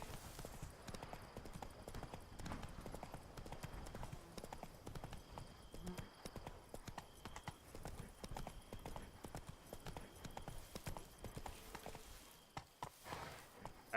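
Roach, the horse in The Witcher 3, clip-clopping steadily along at a walk, dense regular hoofbeats close up with game ambience behind and no talk.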